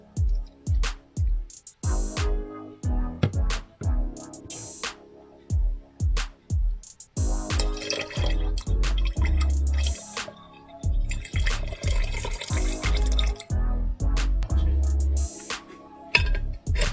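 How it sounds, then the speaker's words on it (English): Water from a measuring cup pours into a hand sanitizer mixture in a mixing container, starting as a quick series of drips and splashes, then a steadier trickling pour with bubbly gurgles, close and alone. "Measure 1/3 cup of water and pour into the mixture."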